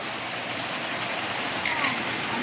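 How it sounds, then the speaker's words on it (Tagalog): Steady rain hisses continuously, a dense even patter close by with no voices. "Ulan pagyapon hantod karon."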